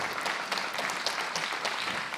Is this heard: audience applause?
yes